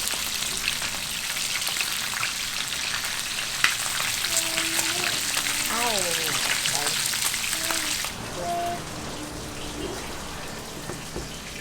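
Fish fries in a pan with a steady close sizzle that drops quieter toward the end, while a high child-like voice and other vocal sounds come and go over it.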